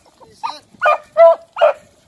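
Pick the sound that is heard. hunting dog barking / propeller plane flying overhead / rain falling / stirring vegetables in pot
hunting dog barking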